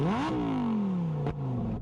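A supercar engine is revved in neutral, a sharp rising blip that peaks quickly then falls in a long descending whine, followed by a brief crackle and another short rev, close and loud.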